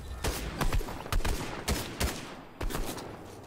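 Gunfire in a Fortnite match: several sharp, loud shots in quick uneven bursts, some doubled, with brief gaps between them and no talk.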